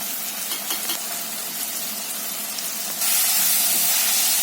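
Tomatoes and turmeric powder sizzle in a hot pan with a steady frying hiss that grows louder and brighter about two-thirds of the way through, with no speech.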